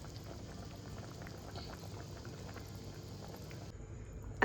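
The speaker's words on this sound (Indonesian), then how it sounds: "Masih mendidih ya." Rendang with gizzards and potatoes bubbling in a pot, a soft continuous simmering hiss with faint pops, steady and quiet throughout, ending in a brief sharp knock.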